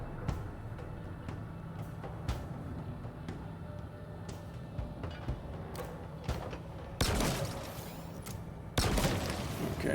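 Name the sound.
gunshots in Halo Infinite video game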